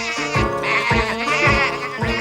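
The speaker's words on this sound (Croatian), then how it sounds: "Kakva je to galama rano ujutro? Baz mi je pomagao provjeriti sve životinje. Provjerio sam ovce, Tome." Sheep bleat loudly and close by on a farm, several overlapping wavering calls following one another in quick succession.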